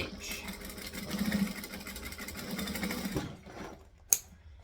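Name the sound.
sewing machine stitching a bag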